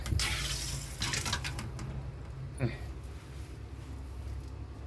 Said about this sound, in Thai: เปิดน้ำออกนะครับ